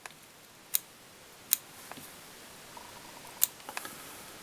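Three sharp, quiet snips of small scissors cutting fibres from the underside of a spent mayfly fly being tied, spaced about a second apart, close up against a hushed background.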